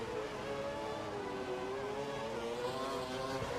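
Formula One race car engines in the F1 2012 video game, a continuous high, shifting engine whine held at a steady level throughout without pause.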